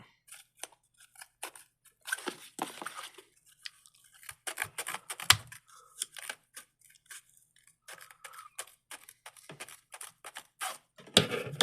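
Scissors snip out a paper cutout for a homemade custom Axon-style body camera, with close, irregular cuts and short clicks coming in uneven bursts, and no talking.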